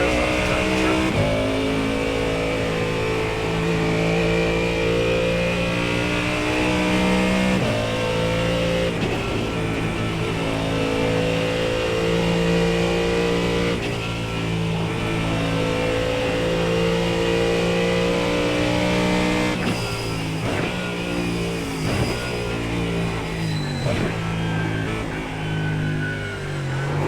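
A Ford Mustang GT3 engine in the iRacing simulator, driven on an out lap at Bathurst, drones loudly and steadily, with pitch rising and falling through gear changes and several sharp shifts near the end.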